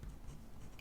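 A pen writes in a Classic Happy Planner with a faint, close scratching that lasts under a second and is barely louder than the quiet room.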